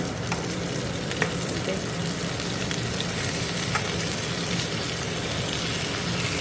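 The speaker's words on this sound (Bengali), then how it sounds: "এখানে মাছ ভাজা হচ্ছে" Fish fries in a pan with a dense, constant sizzle and spatter, loud and close, while a faint engine-like hum runs underneath.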